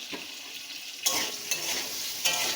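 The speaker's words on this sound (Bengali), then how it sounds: "আলুটা আমি তেলের মধ্যে খুব সুন্দর করে নেড়ে নেব, একটু ভাজা করে নেব" Potato sizzles and crackles steadily as it fries in hot oil, with a few soft stirring scrapes breaking through at intervals; no voices.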